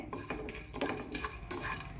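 Black peppercorns and other spices are dry-roasted in a pan, with repeated metal spoon scrapes and clinks as they are stirred, fairly faint and with no voices.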